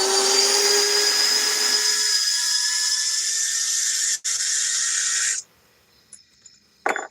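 A Worx cordless drill powered by a tablet cell battery runs with a high, steady whine for several seconds, stops briefly, spins again, then cuts off, followed by a few faint clicks.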